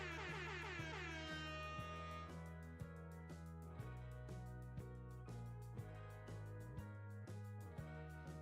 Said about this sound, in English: every time you guys hear the air horn, you have to help me.